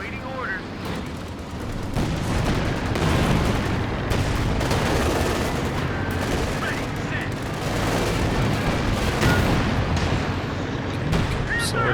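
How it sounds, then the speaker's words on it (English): Artillery barrages and heavy gunfire from a Company of Heroes 2 match, with dense, continuous booming explosions and crackling shots filling the whole stretch at close, loud range. "maybe that was a major artillery"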